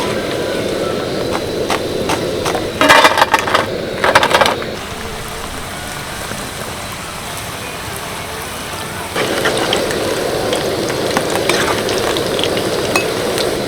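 Papri flour crisps deep-fry in a pan of hot oil, giving a loud, dense, continuous crackling sizzle close up, interrupted by brief clattering bursts as pieces are moved and lifted, then surging again as a fresh batch goes in.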